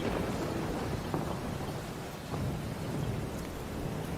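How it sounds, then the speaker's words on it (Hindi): Heavy rain pouring down steadily with a deep rumble of thunder rolling underneath, a dense, loud wash of sound. "हाँ बाहर इतनी जोरों से बारिश हो रही है"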